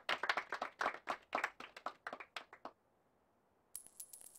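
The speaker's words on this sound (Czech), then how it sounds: "Potlesky, no jasně" Crowd applause in The Movies PC game: a short burst of quick clapping that fades to near silence, then a bright chiming jingle enters, with no one talking.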